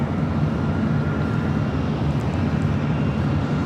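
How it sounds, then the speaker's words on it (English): A steady, loud jet engine roar fills the air at LAX airport as an Airbus A330neo airliner taxis toward the runway for takeoff, constant and close with no talking. "That A330 Neo heading up for a north side takeoff."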